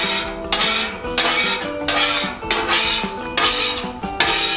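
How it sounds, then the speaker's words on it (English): A metal scraper rasps across a still-hot 36-inch Blackstone griddle in repeated firm strokes, a loud gritty scraping with brief pauses between passes, close up and without talk. "Now we're gonna just go ahead and scrape it again."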